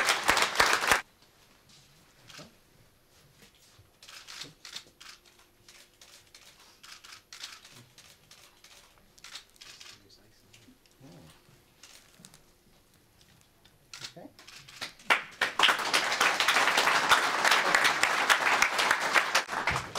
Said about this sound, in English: Can I ask for a round of applause for the man who had the bravery to bring Teesside steelmaking back to life